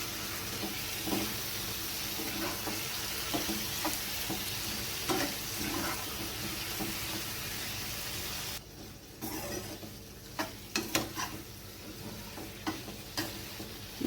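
Soybean and potato curry, just salted, is stirred in a pan over quiet, continuous frying hiss, with scattered ladle clinks and scrapes that grow more distinct near the end.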